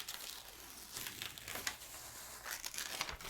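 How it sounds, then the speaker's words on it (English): Backing being peeled off a sticky foam sheet nearby, a short stretch of soft crackling and crinkling with a few faint rips, quiet and without voices. "what you're going to do is you're going to peel the back off"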